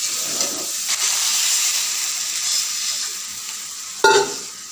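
Fish frying in hot oil while chili powder is sprinkled into the pan: a steady, close sizzle with soft stirring, then a brief louder crackling burst near the end.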